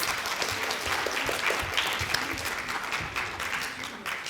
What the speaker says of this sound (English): if we can give another round of applause to all of our drama participants